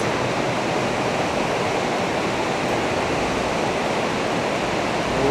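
Roaring River Falls, a powerful 40-foot waterfall in Kings Canyon National Park, roars as a loud, steady wash of falling water that stays dense and unbroken throughout.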